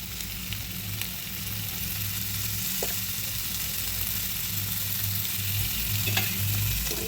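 Marinated paneer pieces fry in oil in a kadai, giving a dense, even, continuous sizzle close by with only occasional faint taps.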